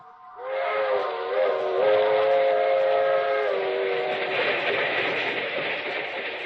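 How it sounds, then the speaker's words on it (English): Loud steam-style train whistle in a vintage radio drama, a sustained multi-tone chord that holds for several seconds over rumbling rail noise as the Southeast Limited passes close by. "That train is the Southeast Limited. See it? Long, sleek, and powerful. Clicking off the miles and the humming rails."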